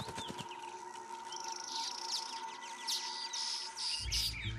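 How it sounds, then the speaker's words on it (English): Weaver birds in Namibia chirp and twitter in quick bright bursts above a steady background hum, with a low thump near the end. "that is why weaver birds in Namibia are in the crosshairs of another medium-sized feline"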